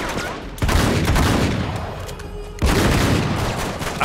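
Bursts of blind-fire gunfire in the video game Uncharted 3, loud and dense: one volley runs for about two seconds, then a second heavy burst starts partway through and keeps going to the end.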